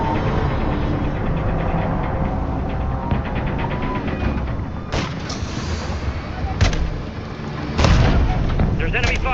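Enemy gunfire and artillery in the Call of Duty Modern Warfare 3 campaign, a dense rumbling battle bed with rapid crackling shots and several heavy booming impacts, loud and continuous.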